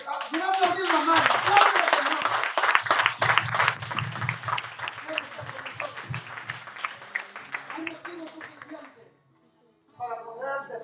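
A church congregation breaks into loud, sustained clapping, a preacher's voice speaking over it. The applause thins out, falls silent briefly near the end, then talk resumes.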